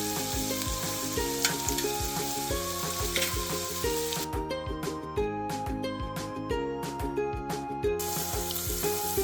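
Pork belly frying on a cast iron pot lid at a campsite, a continuous close sizzle with crackling pops and occasional stirring scrapes, steady and moderately loud with no talk.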